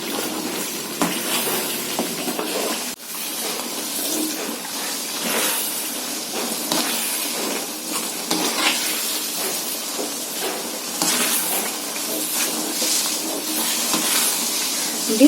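Kesari cooking in oil in a pan gives a continuous hiss and sizzle, with bursts of louder scraping and stirring throughout.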